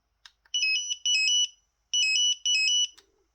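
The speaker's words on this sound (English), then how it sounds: "Does it have different beeps?" A Sun Telecom ST800 numeric display pager plays its alert: two cycles of rapid, shrill electronic chirping beeps in clustered bursts, close-up and loud, separated by a short gap and ending in a faint click.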